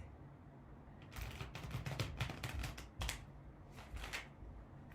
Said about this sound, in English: A lot of shuffling here, so you know that the reading's organic.